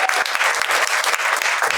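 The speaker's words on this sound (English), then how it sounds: "Round of applause for Tam and Mihir." Audience at a book launch breaks into steady, dense applause, many hands clapping together up close for the full stretch without a pause.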